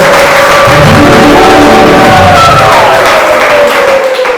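A church congregation applauds together in a loud, sustained burst, with cheering voices and shouts rising over the continuous clapping throughout.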